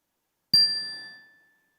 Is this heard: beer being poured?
no